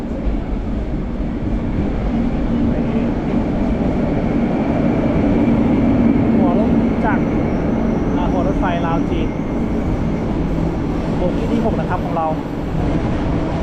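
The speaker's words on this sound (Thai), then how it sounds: "รถไฟมาแล้วนะครับทุกคน รถไฟ ความเร็วสูง" A regular passenger train arriving at a station in northern Vietnam, a loud continuous rumble with squealing brake tones rising and falling, steady over the whole stretch.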